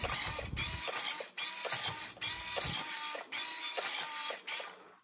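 Holmes brushed motor in an SCX24 crawler spinning its wheels, a busy mechanical whirring with repeated short bursts and brief pauses, close and steady with no talking.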